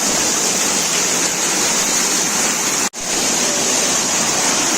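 Water pours steadily over the waterfall at Sri Amara Lingeshwara Swamy Kona near Tirupati, a loud, close, unbroken roar with a brief dropout partway through and no voices.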